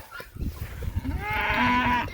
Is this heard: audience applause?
no